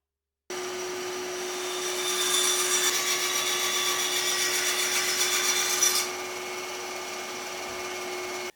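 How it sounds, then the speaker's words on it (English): A bandsaw cuts a taper along a piece of whisky barrel stave wood, a steady motor hum with a rising, brighter rasp of the blade in the wood for several seconds before it eases back to idle. "I'm just going to mark out the taper and then get that cut on the bandsaw"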